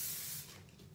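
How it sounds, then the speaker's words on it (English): Kenra volume hairspray hisses from an aerosol can onto curly short hair in one short, close burst that fades within a second. "and then I give myself a good spray"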